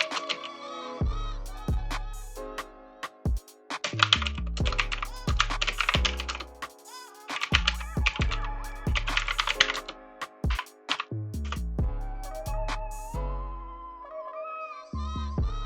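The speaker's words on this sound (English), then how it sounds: "So I'm simply going to type in this command." Typing on a computer keyboard at an Ubuntu 22.04 desktop: close, crisp key clicks in irregular quick runs with short pauses, steady for about fifteen seconds, with no talking.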